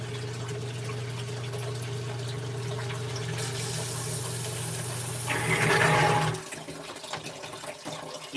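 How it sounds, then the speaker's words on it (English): Floodwater rushing back into a flooded house, a steady loud gushing flow over a constant humming pump or motor drone, swelling briefly before easing off, with no talking. "That water's coming back in pretty ferociously."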